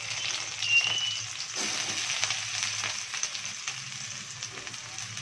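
Green chillies followed by onions dropped into hot oil crackle and sizzle in a steady, close frying hiss, with a brief louder burst as the onions go in and no voices.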